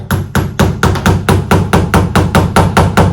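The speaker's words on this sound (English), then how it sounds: "If you're hammering, you wanna make sure and have something underneath here so that it doesn't, hammer into your table." A hammer driving a tack in on a tabletop, struck in a steady run of about fourteen quick, loud, close blows with an even rhythm and no talking.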